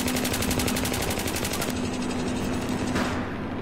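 Rapid machine gun fire in a first-person shooter on the Metro map, a loud, fast regular stream of shots that runs for most of the moment before cutting off.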